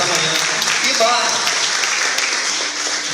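A church congregation claps and applauds at a Catholic Charismatic Renewal morning gathering, a dense, steady wash of hands sustained throughout with voices mixed in.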